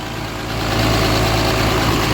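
A Cummins truck engine idles while its cooling system is bled and it warms up to temperature, giving a steady, close, low rumble that swells slightly louder after the first half-second and then holds even.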